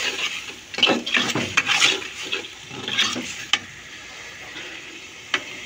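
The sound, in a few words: small shrimp sautéing in pan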